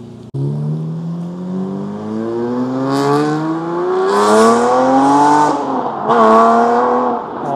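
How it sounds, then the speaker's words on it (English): A Lamborghini V12 accelerates away as cars leave a cars-and-coffee meet, its loud, smooth engine note climbing steadily through two long pulls with a brief gear change between them, sounding close and growing stronger. "Oh, that Lambo V12 sounds gorgeous."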